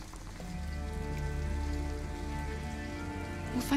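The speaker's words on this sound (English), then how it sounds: "It's chucking it down with rain." Steady rain in the video game Detroit: Become Human patters on a surface beneath low sustained musical tones, ending with a short louder rustle.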